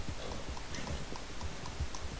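Horse hooves in a video game clip-clop in a steady, quiet, regular rhythm, close and soft, with no talking.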